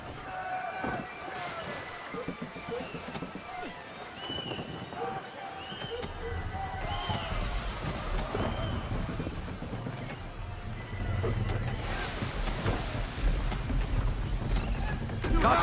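Wind and waves wash around a sailing ship in the video game Assassin's Creed III, a broad steady rush under shouted crew commands, swelling louder toward the end.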